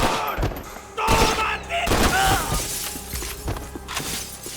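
Max Payne 3 combat: bursts of gunfire and glass shattering come in loud, sharp volleys, with several distinct crashes and rapid shots over a few seconds and voices faintly underneath.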